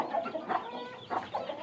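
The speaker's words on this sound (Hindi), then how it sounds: "6 मुर्गियाँ 7 मुर्गियाँ अंडों पर हैं और 3 मुर्गियों के साथ बच्चे हैं" Hens brooding eggs and hens with chicks in a backyard coop cluck in soft, close, repeated bursts, with no talking over them.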